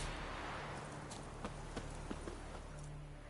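Hooves of Geralt's horse Roach in The Witcher 3 clop at a steady trot, several distinct beats over a low ambient hum, moderately close and without speech.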